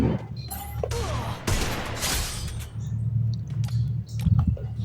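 Desert Eagle pistol shots fired in the Free Fire video game during a lone-wolf fight, with a few sharp cracks over a game soundscape and a faint voice.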